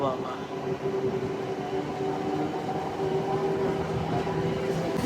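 A Kacheguda–Raichur MEMU passenger train running on a bridge near Malakpet, Hyderabad, beneath a metro line, giving a steady close rumble with a faint sustained tonal hum throughout, and a voice talking over it.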